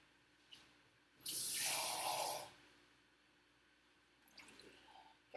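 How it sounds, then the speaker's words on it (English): A burst of water pours from a tap into a cooking pot for about a second, loud and close, followed by quiet kitchen handling sounds. "I'm also going to add a little bit of water."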